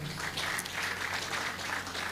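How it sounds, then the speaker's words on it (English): Audience applauding at a university convocation and Founder's Day ceremony, a steady, even wash of clapping that holds at a moderate level for a couple of seconds, with a faint low hum underneath. "I expect you to applaud there."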